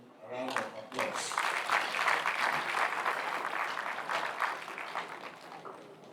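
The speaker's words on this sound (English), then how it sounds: "Let's give him a round of applause." Sustained applause from an audience at a university convocation ceremony conferring degrees, a steady clapping wash that swells and fades over several seconds after a brief spoken introduction.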